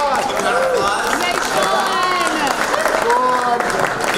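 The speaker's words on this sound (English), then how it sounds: "Give a round of applause." An audience applauds at a red carpet event for a film festival, with brisk clapping running under cheers and several excited voices talking throughout.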